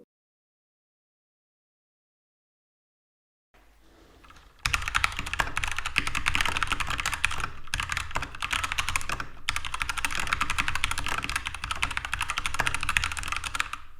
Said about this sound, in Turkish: klavyenin sesi gerçekten güzel